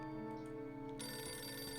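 A telephone rings in the video game Beholder 2, a repeated electronic bell-like trill that stays continuous and fairly quiet throughout, with no speech.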